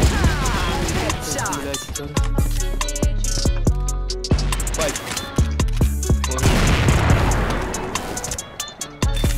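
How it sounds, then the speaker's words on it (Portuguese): Rapid bursts of gunfire in the video game CrossFire crackle loudly and repeatedly, with sharp shots and booms layered over a busy mix. "tá tendo muito tiro de baixo"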